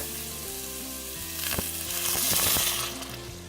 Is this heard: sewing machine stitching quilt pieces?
no